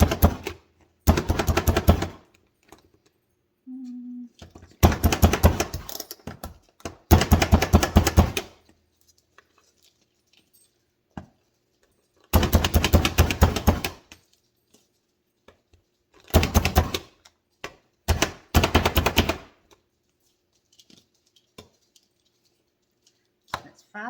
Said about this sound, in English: And we're going to chop some bacon.